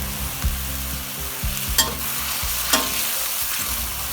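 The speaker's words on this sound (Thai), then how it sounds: "ก็ผัดหมูสามชั้น ให้เข้ากับพริกแกงนะคะ ผัดไปเรื่อยๆให้เหมือนสุกนะคะ" Pork belly is stir-fried with curry paste in a pan, giving a steady sizzle with a few sharp scraping stirs of the spatula, close and fairly loud, with no voices.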